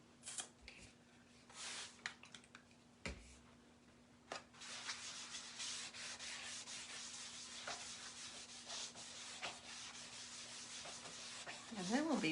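Old chalk scraped and rubbed across a board with a board eraser, a dry, gritty rasp repeating in close, uneven strokes with a few sharper scuffs, no talking.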